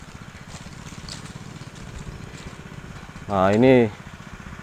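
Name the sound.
diesel-powered water pump engine running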